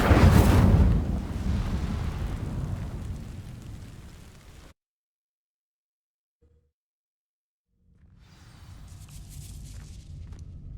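Incendio fire spell from Hogwarts Legacy igniting dry vines: a loud whooshing burst of flame that roars and fades over several seconds, then silence, followed by a softer crackling rumble returning.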